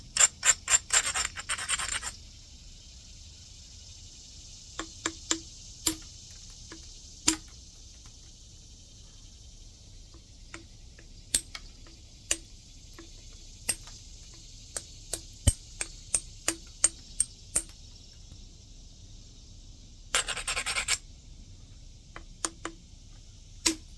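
Flint being knapped, with flakes trimmed off the stone edge: sharp, isolated clicks and ticks land at irregular intervals in a quiet setting, with brief scratchy grinding bursts at the start and again near the end.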